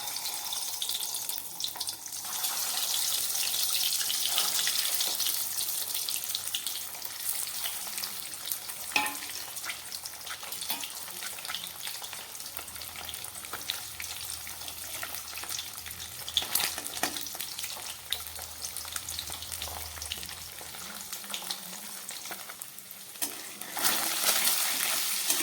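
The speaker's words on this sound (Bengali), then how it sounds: "খুব হালকা আছে ডিমগুলোকে আমি একটু ভেজে নিলাম।" Duck eggs coated in salt and turmeric fry in hot oil in a kadai, giving a steady, close sizzle and crackle throughout, with a few brief clinks and stirring movements.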